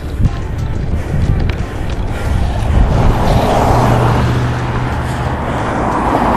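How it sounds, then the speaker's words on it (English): Cars drive past on a road beside an outdoor freestyle skating spot, a steady broadband rumble and whoosh that swells through the middle and stays fairly loud throughout. "Wait for the cars to go by."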